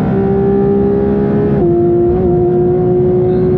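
Porsche GT3 RS at full throttle out of Hocheichen on the Nürburgring, a loud, close, sustained engine howl with a brief dip and step as the gear changes, then climbing again.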